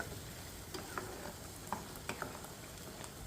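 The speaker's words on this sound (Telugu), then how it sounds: "ఈ పేస్ట్ మనం మిక్సీ చేసుకుంటే ఇప్పుడు మనం ఇందులో వేసుకొని వేపుకుంటున్నాం" A cashew and tomato paste fries in oil in a pan for a dhaba-style kaju paneer masala, a soft continuous sizzle with a few faint scraping stirs on top.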